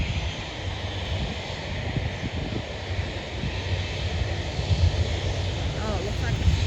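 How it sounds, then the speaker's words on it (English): A propeller airliner approaching Sydney airport, its engine drone a broad steady roar mixed with wind noise across an open spotting area, growing slightly louder toward the end while a person talks over it. "It looks like a propeller one coming in."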